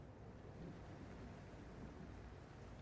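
Wind blows in The Alters video game, a steady, soft, broadband rush of air with no clear gusts and no speech.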